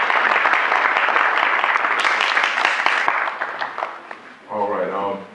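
A large audience at an NAACP program in Valdosta, Georgia claps in a dense, loud burst for about three seconds before the applause thins out and a voice begins speaking.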